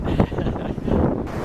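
Strong wind gusts buffet the microphone at a campsite in Wyoming, a loud, rough, low rumble that swells and eases in uneven surges with no talking.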